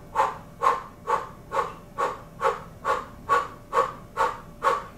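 Kundalini Yoga breath of fire pranayama: eleven rapid, evenly spaced breathy exhalations, strong and rhythmic, close to the listener, each a short forceful puff of air with no voices.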